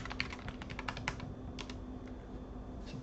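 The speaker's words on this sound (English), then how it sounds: "We'll go ahead and type in our password here." Quiet clicking keystrokes on a computer keyboard as a password is entered, an uneven run of light taps that pauses midway, then a few more, with a steady electrical hum underneath.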